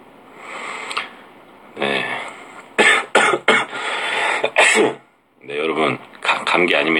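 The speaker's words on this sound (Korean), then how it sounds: "마른 기침에 마른 기침." A man gives a run of dry coughs and throat-clearing, several sharp close bursts in quick succession, broken by short stretches of his talking.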